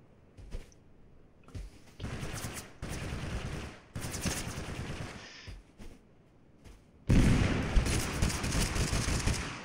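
Pistol fire from the battle royale game Totally Accurate Battlegrounds: clustered bursts of sharp, close shots separated by brief pauses, ending in a louder, denser volley.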